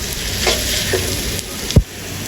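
Onions sizzle steadily in hot oil, gradually browning, with a spatula scraping and stirring the pan now and then.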